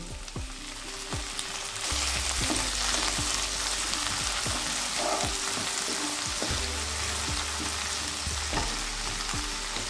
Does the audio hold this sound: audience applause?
no